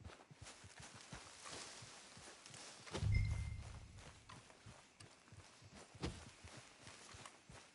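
A horse walks in Red Dead Redemption 2, its hooves clopping in a steady, faint rhythm with a soft thud partway through.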